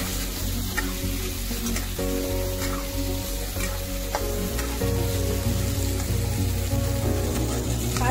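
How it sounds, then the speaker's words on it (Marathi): Cowpeas sauté in hot oil with curry leaves for a Maharashtrian mixed-vegetable dish, giving a steady sizzle with occasional stirring scrapes. A low, tonal hum of background music plays underneath. "चवळी ही व्यवस्थित तेलात परतून घ्यायची आहे"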